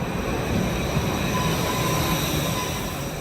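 A Tashkent subway train rumbles steadily with a broad roar and faint wheel whine, sustained and fairly loud throughout, with no voices.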